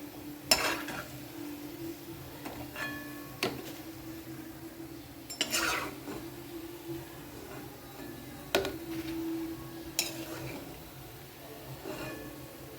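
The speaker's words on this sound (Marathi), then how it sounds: "गुलाबजामून छान असे तळून झालेले आहे आता मी यांना काढून घेतात" Gulab jamun being lifted from hot frying oil with a spoon: a few sharp metal taps against the pan at intervals over a soft, steady sizzle, close by.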